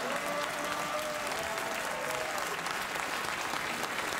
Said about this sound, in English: there was a slightly more enthusiastic feminine side to the applause